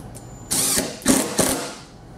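Euro screws being driven with a powered driver to mount a sliding door rail from a kit, a few short whirring bursts with a ratcheting mechanical buzz, close and fairly loud, no talking.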